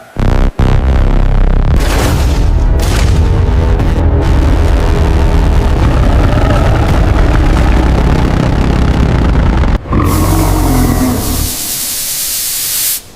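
An old, long-abandoned Mack truck engine cranks and roars to life, a loud deep droning rumble that holds steady for several seconds, cuts briefly, then settles into a lower idle.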